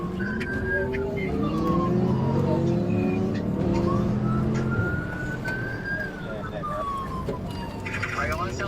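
A police car siren wails continuously during a high-speed chase, its rising and falling tones loud and close over engine and road noise, with radio talk mixed in.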